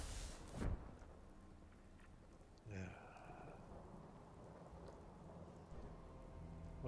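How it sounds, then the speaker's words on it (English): Rain falls steadily in Fallout 4 with thunder rolling in, a close crack of thunder near the start and another rumble a couple of seconds later over a constant soft hiss of rainfall. "What a time for the rain to start coming down."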